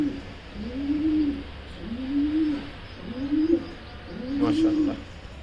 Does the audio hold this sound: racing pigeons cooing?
yes